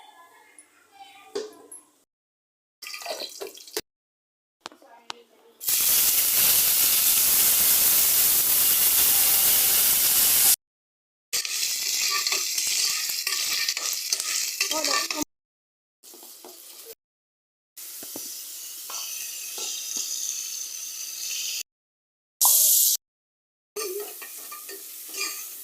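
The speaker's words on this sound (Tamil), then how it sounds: "இப்போ வந்து நம்ம சிக்கனை தாளிச்சு விட்டுடலாம்." Chicken is tempered and stir-fried in a pan, giving loud bursts of sizzling and scraping stirs broken by short silent pauses, with a voice heard between the bursts.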